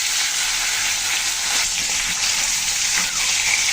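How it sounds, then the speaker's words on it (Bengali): Tilapia pieces fry in hot oil dusted with a little turmeric, giving a loud, dense, continuous sizzle and crackle throughout, with no one speaking. "মাছগুলো আমি ভেজে নেব।"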